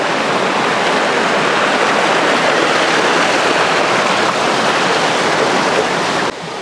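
A mountain stream in Vietnam rushing steadily over rocks at a bridge-building site, a loud constant broadband wash with no pauses, cutting off abruptly near the end.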